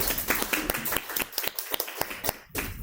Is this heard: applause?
yes